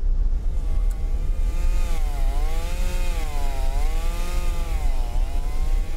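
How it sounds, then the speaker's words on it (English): A revving chainsaw in the video game Escape The Backrooms drones steadily and loudly, its engine pitch wavering up and down as it swells throughout, with no talk over it. "He has a chainsaw!"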